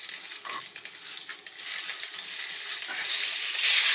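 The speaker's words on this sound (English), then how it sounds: "And get it frying off." Loud, continuous sizzling of pork frying in a hot pan, a bright crackling hiss that builds and holds steady.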